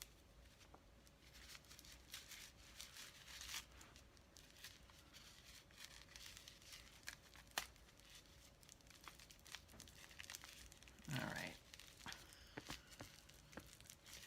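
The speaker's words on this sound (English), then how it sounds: "You would think I could unwrap tissue paper." Tissue paper being unwrapped from a gift at a holiday present opening, with soft crinkling and rustling throughout, a louder tearing burst near the end, and a brief spoken remark.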